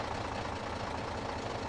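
A truck engine in Farming Simulator 22 runs at a low, even idle, a steady rumbling drone with no clear start or change.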